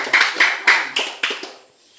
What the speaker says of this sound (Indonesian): Oke, tepuk tangan buat Amanda.